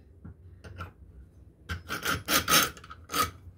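The lid of a chakli press is twisted shut, giving scraping, rasping turns: a few soft scrapes, then a louder cluster of gritty rubs close by.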